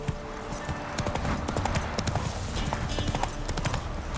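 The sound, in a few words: horse galloping in The Witcher 3 video game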